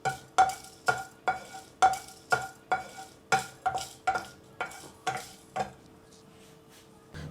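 Broken dried red chilies roasting in a kadhai, stirred with a spatula in about ten close, rhythmic scraping strokes, with a soft sizzle underneath. The strokes stop near the end.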